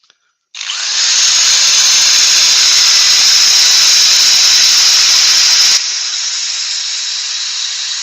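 Turned wood spinning on a lathe is sanded with 240-grit sandpaper, giving a loud, steady, close hiss that starts abruptly, holds for several seconds, then drops slightly in level and continues.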